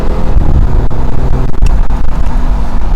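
A BMW 4 Series Cabriolet is driven slowly in Miami, its engine giving a loud, close, steady rumble with a low throaty drone and no voices.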